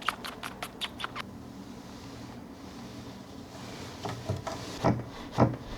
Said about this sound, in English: And now I'm going to be making my first weft.